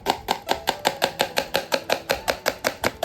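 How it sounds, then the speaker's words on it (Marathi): A knife chops onion finely on a board at home, a fast even run of about fifteen crisp close taps with no talk. "बाहेर जसा वेळवाले कांदा कापतात तसा एकदम बारीक छान कांदा कापता येतो मला"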